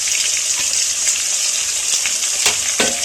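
Chopped onion, green chilli, beans, ivy gourd and cucumber pieces with salt sizzle steadily in a pan, with occasional clinks and scrapes of stirring over the continuous frying hiss.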